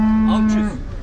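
A cow lows at a livestock market for cattle, one loud, close moo lasting under a second before fading into the background noise of the market.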